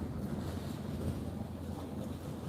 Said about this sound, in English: A bit windy, but it's okay.